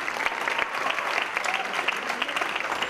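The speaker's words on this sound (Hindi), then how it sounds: "जोरदार तालियां" Audience applause at a live Kathak dance performance accompanied by vocals, harmonium and sarangi, a dense steady burst of clapping from a crowd that fills the whole stretch evenly.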